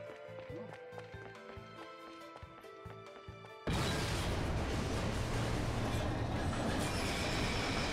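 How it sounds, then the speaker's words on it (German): A subway train in the video game Bayonetta rushes past with a dense, loud roar that starts suddenly and holds steady. Game music and effects play before it, and someone talks over the scene. "Die U-Bahn."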